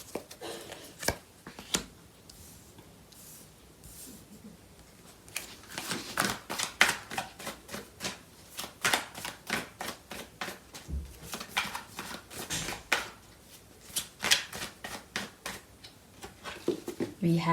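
Tarot cards being shuffled and handled, a run of quick crisp riffling flutters and taps that grow busier and more continuous partway through, close and fairly quiet, with no talking over it.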